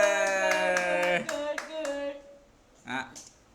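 A few sharp hand claps ring out in a quick run at home during a child's mealtime, cutting through a sustained tonal background, followed by a short voice.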